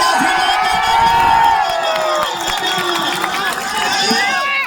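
A loud crowd at an open-air political rally in Karakat cheers and shouts, with a dense roar of voices and whoops over clapping that holds steady throughout, close and forceful.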